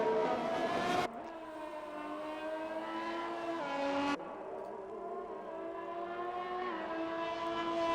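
Race cars lapping in a no-assist sim racing qualifying session at the France round, engines droning loudly with sharp gear changes and steady revs, one car leaving the pits.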